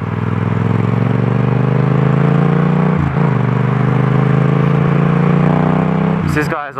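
A Yamaha MT-07 motorcycle engine runs loud and steady close by, holding a sustained tone with a brief dip near the middle and a sharp change at the end.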